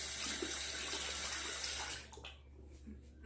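Running water pours loudly over a Durham Duplex folding razor as it is rinsed under a tap, a steady rushing splash that cuts off partway, leaving faint drips and trickles.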